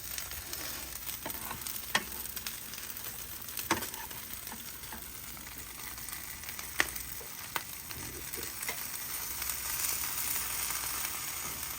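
Corn tortillas for queso birria tacos, folded and pressed flat, fry in a hot pan with a steady close sizzle and scattered sharp crackles and pops, with no talking.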